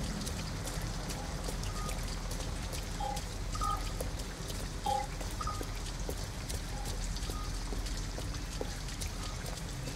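Steady rain pours in the video game Detroit: Become Human, a dense continuous patter of drops with a few faint tonal blips, evenly loud throughout and without talk.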